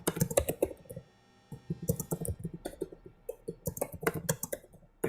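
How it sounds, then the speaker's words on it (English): Computer keyboard typing heard close and clear, bursts of rapid irregular keystrokes broken by short pauses, with no talk. "Hey Ryan, every single keyboard stroke I can hear"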